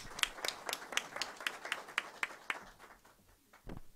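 A small audience gives a brief round of applause after a speech at a gathering in Istanbul, heard as a run of distinct, fairly close claps at an even rhythm that thins out and stops.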